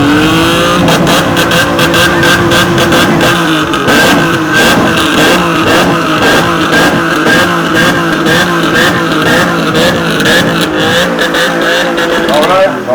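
A car engine, the Auto 166, revs hard and continuously at a sound contest, a loud, close, rasping roar with repeated throttle rises, while people talk over it.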